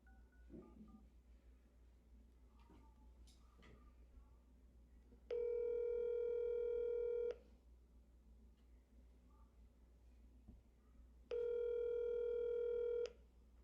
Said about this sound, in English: Let's look at Student A's phone call with the financial aid office.